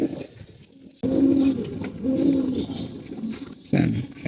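Silver and black-necked pigeons coo nearby in several low, rounded, throaty phrases with short pauses between them, with faint chirps in the background.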